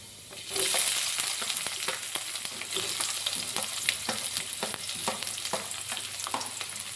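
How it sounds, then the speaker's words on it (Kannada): Onions hit a hot pan of frying garlic for onion manchurian, setting off a steady, close sizzle with scattered stirring clicks that stays fairly even throughout, no voices. "ಇವಾಗ ಈರುಳ್ಳಿ ಹಾಕ್ಕೊಳ್ಳೋಣ."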